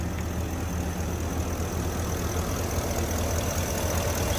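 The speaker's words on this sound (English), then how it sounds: "It's idling smooth and sounds really good." A Ford F250 with the 6.2L engine idles after a misfire repair, giving a steady, even low rumble that holds unchanged throughout with no voices.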